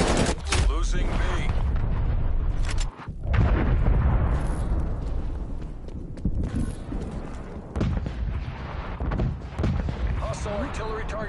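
An artillery strike pounds a Call of Duty Cold War match with heavy, repeated explosive booms and bursts over a steady rumbling battle din, while voices speak intermittently throughout.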